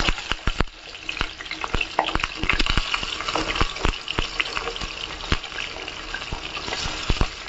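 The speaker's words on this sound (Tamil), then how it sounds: "இந்த வாழைக்காவை எடுத்து எண்ணெயில் ஒன்றா போடணும்." Raw banana slices tossed with chili powder drop into hot oil and fry, making a loud, dense sizzle with sharp crackles and pops running throughout. No talking is heard.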